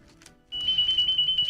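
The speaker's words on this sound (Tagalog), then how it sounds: "Ang telepono." A phone starts ringing abruptly, a rapid electronic warble pulsing in short repeated bursts, close and fairly loud.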